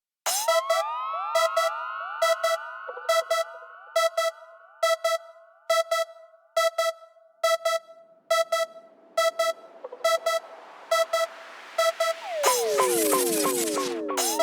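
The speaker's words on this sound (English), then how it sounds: "We've got a crash and 2 sirens." Crash and siren sound effects in a speed garage production: a rhythmic run of short, bright electronic siren tones repeating with trailing echoes, then a loud noisy crash swelling near the end with a sweeping wail.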